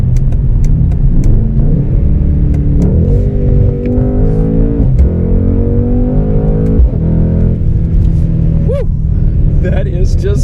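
A 2021 Mercedes-AMG C63 sedan engine and exhaust heard from inside while downshifting, a loud continuous rumbling drone that rises in pitch with revs, dips and climbs again between gear changes, with sharp exhaust pops and crackles scattered throughout.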